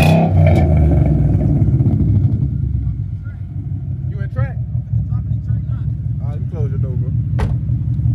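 Ford Mustang 5.0 V8 revving outdoors in the rain, a loud, deep rumble that fades into a lumpy idle burble, with people talking and calling out over the engine.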